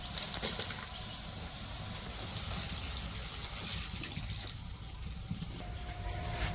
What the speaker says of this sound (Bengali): তো এই যে পানি দিয়ে দিছি